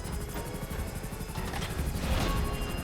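Sparrow helicopter in GTA 5 Online flying steady, a continuous rotor chop and engine drone at moderate level throughout, with a brief crash-like swell near the end.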